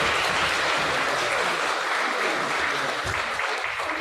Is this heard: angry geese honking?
no